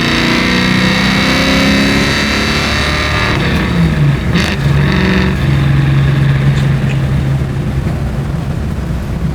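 A 550 hp 1963 Ford Falcon race car engine drones loudly and steadily from inside while driving on the road, with a low rumbling tone that shifts pitch slightly as the car accelerates.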